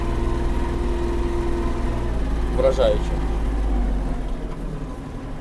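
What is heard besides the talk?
Kubota GL-320 mini tractor driving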